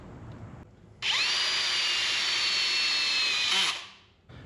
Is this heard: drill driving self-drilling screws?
yes